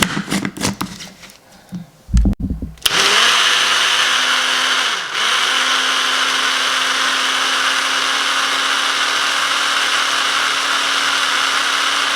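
A blender motor starts after a few seconds of handling noise and whirs loudly and steadily, with one brief dip in pitch, as it blends Queen Afua's kidney-liver flush with oil.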